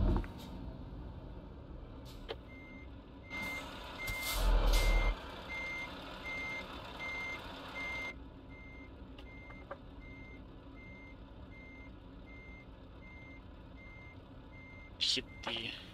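A truck reversing with a trailer in Euro Truck Simulator 2 gives off a regular, evenly spaced series of beeps that repeat for most of the stretch under a low engine hum, with a few brief louder bursts.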